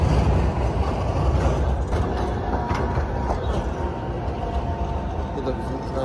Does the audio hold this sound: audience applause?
no